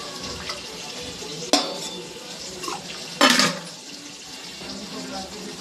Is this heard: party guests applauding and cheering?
no